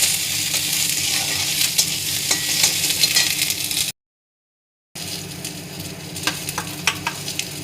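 Chana dal, peanuts and curry leaves frying in oil, giving a loud continuous sizzle with repeated scraping stirs. The sound drops out completely for about a second, then resumes just as loud.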